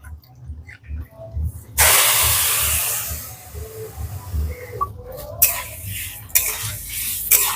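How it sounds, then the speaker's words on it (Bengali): A spatula stirs and scrapes a mix of sugar and water in a wok as it melts for batasa sugar candy, with repeated metallic scraping over a soft sizzling hiss, close and fairly loud. "এবারে চিনিটাকে খুব ভালো করে গলিয়ে নেব"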